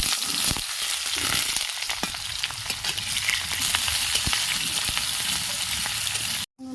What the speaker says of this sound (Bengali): এখন আমি এই ওলগুলোকে ভেজে নেব ভালোভাবে।